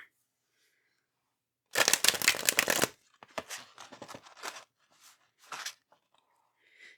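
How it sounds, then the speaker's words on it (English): A quick, crisp burst of cards being shuffled for about a second, followed by softer scattered rustling and handling sounds. "Shuffle our tarot cards."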